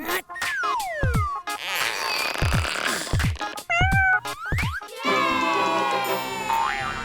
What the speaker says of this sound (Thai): ลูกแมวติดอยู่บนต้นไม้